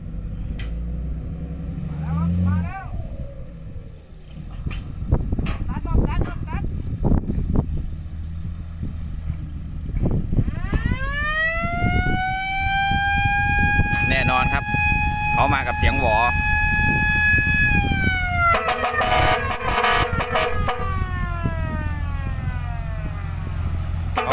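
A vehicle siren wails at length beside a dump truck loaded with soil and parked at a lunch stop, its rising, steady tones loud and close over engine rumble and scattered talk.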